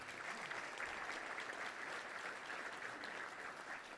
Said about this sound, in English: Let's give a round of applause for Tim Griffin, our Attorney General